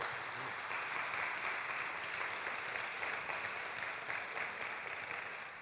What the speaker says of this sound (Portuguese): Uma salva de palmas para as mães, em nome de Jesus.